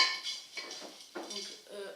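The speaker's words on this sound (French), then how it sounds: "Moi je le mets dans un bocal en verre afin que ça conserve" Dry rabbit food poured and rattled into a glass jar, with clinking, scraping bursts of kibble against glass coming close and fairly loud in uneven spurts.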